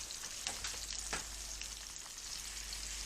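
Flounder fillets fry in a hot pan, a steady close sizzle and crackle of oil running evenly throughout with a few brief pops, no voices.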